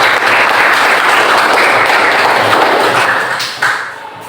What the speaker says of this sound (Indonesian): kita mari sama-sama kita tepuk tangan untuk kegiatan kita pembelajaran hari ini